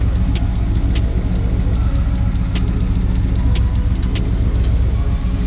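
A car engine runs steadily close by, giving a continuous low drone with sharp ticking clicks scattered over it and no clear rise or fall in pitch.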